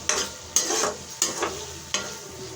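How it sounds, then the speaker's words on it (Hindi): Tomato masala with onion sizzles in a pan while a spoon mixes it, four distinct scraping strokes recurring at roughly even intervals over a steady close fry. "अब हम इस तरीके से चम्मच की मदद से टमाटर को मिक्स कर लेंगे।"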